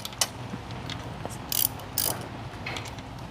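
A 1/2 inch ratchet working on a 4L80 automatic transmission, with quick close metallic clicking in short bursts and a couple of louder ratcheting strokes amid shop noise.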